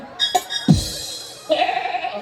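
A person imitates a goat's bleat during a comedy stage show at a village event: a few short, close, nasal bleating calls in quick succession.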